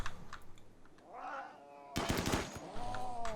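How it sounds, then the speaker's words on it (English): Shotgun fire in the video game RimWorld against a mad cougar, heard as a dense burst of sharp, loud blasts after a quieter stretch of game sounds. "Oh, headshot with a shotgun."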